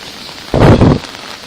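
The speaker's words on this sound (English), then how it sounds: "It's rainy thunderstorms." Rain with thunder on a walk to the Alhambra in Granada, Spain: a short burst of loud, broadband rumble lasting about half a second over a steady rain hiss.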